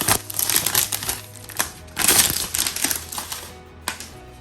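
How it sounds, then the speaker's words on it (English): An iPad Pro is unwrapped from its plastic wrap, with close, loud bursts of crinkling and tearing plastic coming in uneven clusters and short pauses, and no talk. "And just go ahead and unwrap this."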